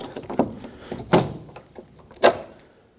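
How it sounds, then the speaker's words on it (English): Exterior door handle on a 2012–2019 Fiat 500 being worked loose, giving three sharp, close plastic-and-metal clunks spaced about a second apart, with quieter handling noise between them and no talking. "Now the handle should come out in the front and in the back simultaneously."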